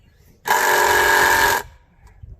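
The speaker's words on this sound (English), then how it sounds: "I think we're gonna need to drill better holes." A power drill whirs steadily at full speed for about a second, drilling holes in black locust wood, close and loud, then stops abruptly.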